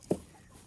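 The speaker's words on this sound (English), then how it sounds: "You can hear the chickens going crazy in the background." Farm chickens clucking in a backyard flock after morning egg collection, two short close clucks separated by a quiet pause.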